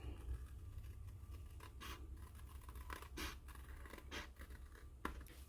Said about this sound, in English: scissors to round these corners